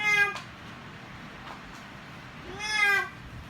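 A cat meows twice, a short close meow at the start and a longer rising-falling one near the end, separated by quiet.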